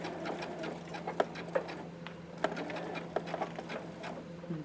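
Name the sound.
sewing machine back stitching a seam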